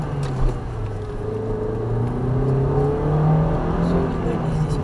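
Car engine hum from inside a moving car on the road to Pskov, with steady low drone and traffic passing far off, while people talk over it throughout.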